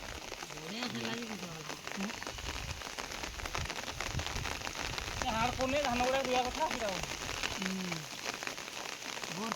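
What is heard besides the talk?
rain falling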